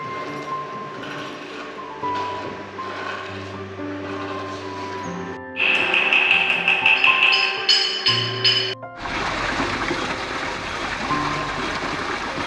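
Flowing water driving workshop machinery at the Norbulingka Institute in Dharamshala, where metal craftsmen work. Mechanical hum and light clinks give way to a steady, loud rushing wash of water.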